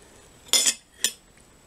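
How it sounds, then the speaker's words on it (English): A knife cuts through a puff pastry custard slice with sprinkled icing sugar on a plate, giving two short close scraping crunches, the first longer than the second, in a quiet room. "because it's puff pastry, it's quite hard. So you actually have to cut it with a knife first."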